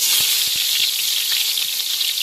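Onions sizzle in a hot pan for egg fried rice in a Kundapura village kitchen, a steady bright hiss with occasional small pops, close and continuous.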